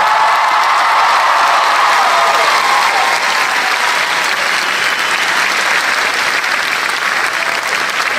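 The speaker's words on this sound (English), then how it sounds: "And this deserves a round of applause." A large convention crowd at a Jurassic Park panel applauds Jeff Goldblum, a loud, dense, sustained wash of clapping that holds steady throughout with a few cheers mixed in.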